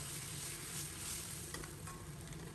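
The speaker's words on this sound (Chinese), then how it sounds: "放入刚才炸好的螃蟹，在锅中烧制，开中火在锅中烧约1分多钟" Fried swimming crab simmers in a wok over medium heat with scallion and ginger, giving a soft, continuous bubbling sizzle at low level, with faint scraping clicks near the end and no talking.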